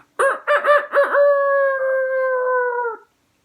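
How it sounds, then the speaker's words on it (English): A single drawn-out crow from a rooster on a fence post, loud and close, with a few choppy opening notes stretching into a long held tone before stopping. "It was a rooster on a fence post."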